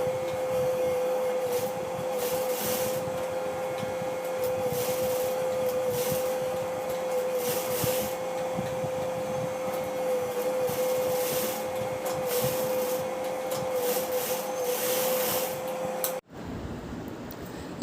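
A sewing machine runs steadily while stitching a cloth face mask, giving a continuous close mechanical whir with a steady tone that holds for about sixteen seconds before stopping abruptly.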